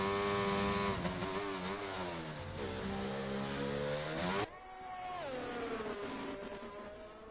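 A racing car engine revs hard near the microphone, pitch climbing and dipping through gear changes, then drops abruptly and settles to a lower steady drone before rising again.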